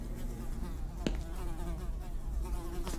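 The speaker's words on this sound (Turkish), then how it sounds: "Bak burada sinekler vızıldıyor." Flies buzz steadily inside a closed-off room, a faint continuous drone with a couple of soft clicks, heard alone without speech.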